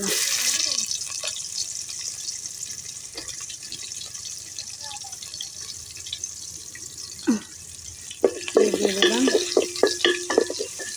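Oil sizzling in a cooking pan as a constant close hiss, broken by a few scrapes and knocks, with louder clattering and stirring toward the end.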